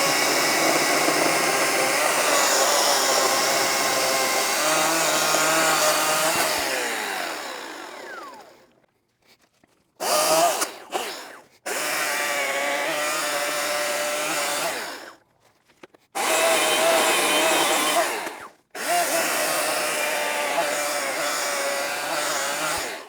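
An Ego CSX5000 battery chainsaw whines loudly in several long bursts, pausing briefly between them, its motor pitch dipping as it bites across knots in the wood.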